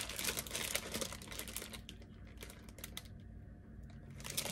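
A package of Jarlsberg light cheese is handled and opened with scissors, giving a steady stream of faint rustling and crinkling with small clicks throughout, close by and without talk.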